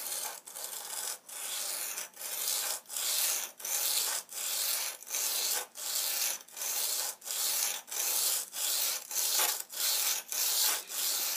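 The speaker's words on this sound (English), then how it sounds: "Now I'm just going to use a stone to do this." A sharpening stone scrapes along a steel lawn shears blade in steady, even back-and-forth strokes, about one stroke per second, loud and close with short gaps between passes.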